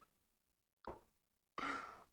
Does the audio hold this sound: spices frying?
no